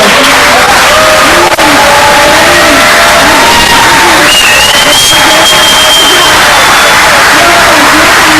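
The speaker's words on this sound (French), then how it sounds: "Je voudrais vraiment qu'ils se lèvent et que vous leur faites un gros applaudissement." Loud, sustained crowd applause and cheering fill a conference hall during a session on Africa's creative economy in Rabat, a dense continuous wash with a few rising tonal voices poking through.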